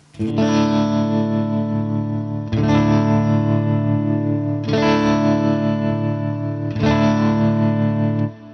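Four sustained, heavily processed electric guitar chords through an EQ and Matchless DC30 and Fender Twin amp tones ring out one after another, thick and distorted with a warm, boosted low end and a shimmering wash.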